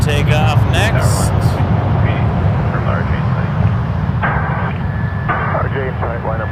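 Airliner engines roar steadily at Toronto Pearson Airport as the plane takes off, a loud continuous rumble throughout, with radio talk from air traffic control heard over it.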